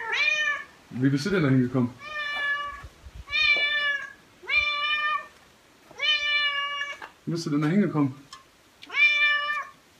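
A cat stuck up high meows again and again in long, clear cries separated by short pauses, while a person speaks to it between the calls.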